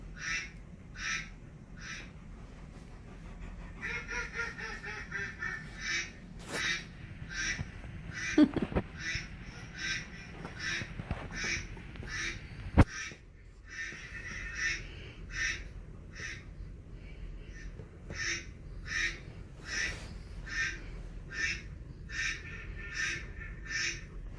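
Ducks quack repeatedly in steady bursts across the whole stretch, nearby and clear, with a few thumps and rustles in the background.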